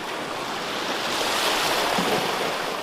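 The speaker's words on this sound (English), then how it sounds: "Whoa, look at those waves out there, Jess." Ocean waves and surf off Kapaa, Kauai, a broad, continuous rushing wash of water with wind noise, fairly loud and steady with a swell in the middle, no voices.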